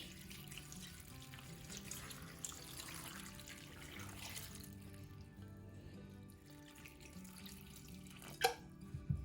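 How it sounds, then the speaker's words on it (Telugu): Water pours steadily from a tap or vessel over tamarind in a cooking pot, a continuous close running-water sound that eases briefly near the end and finishes with a small splash or clink. "చింతపండు మునిగేంత వరకు కూడా నీళ్ళను పోసుకోవాలి."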